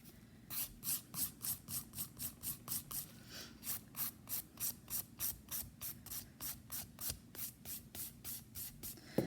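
Steady rhythmic rasping strokes of a nail file across a nail, about two strokes per second, close and dry, with no talking.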